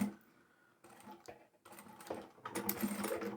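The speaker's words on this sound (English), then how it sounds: "place that down onto the bed of my machine and centre my presser foot over that seam line that we already have" A home sewing machine puts a couple of quick stitches over the seam line of a fabric storage basket, with short mechanical bursts and pauses between them, close and moderately quiet.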